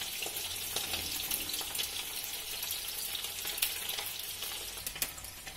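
Oil heats and sizzles in a kadhai while matar paneer is being cooked, with a steady, fairly quiet crackling hiss and a few brighter pops.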